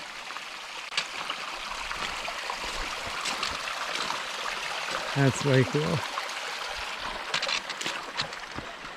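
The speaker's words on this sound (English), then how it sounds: "So here's a water crossing. Little stream" A small stream at a trail water crossing in alpine wilderness trickles softly and continuously in the background, while someone talks briefly over it midway.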